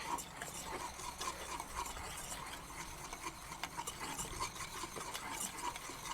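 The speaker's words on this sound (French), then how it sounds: "on va brasser" A hot homemade throat lozenge mixture with essential oils being stirred, faint rhythmic scraping and soft clinks of a utensil against the container, quiet and close with no talking.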